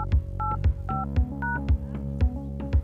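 Keypad tones from an Android phone dialer, a series of short beeps in an uneven rhythm with soft taps between them, close and clear.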